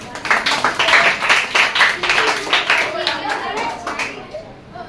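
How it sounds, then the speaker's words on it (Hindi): Students in a Hindi-medium maths class clap together in a dense, lively burst of applause, loud and close, with children's voices mixed in, before the clapping thins out and fades near the end. "भाई, ताली बजाओ इसके लिए।"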